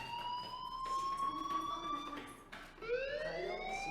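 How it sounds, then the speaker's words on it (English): School fire alarm in Life is Strange, a steady wailing electronic tone that sweeps upward, briefly dropping out before rising again, continuous and fairly loud. "do you hear that fire alarm?"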